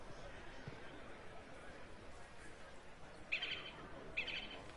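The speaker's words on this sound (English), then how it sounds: "Loud ass bird." A bird in Dragon Age: Inquisition gives two short, sharp, bright calls about a second apart. They stand out over a faint, murmuring ambient bed of distant voices.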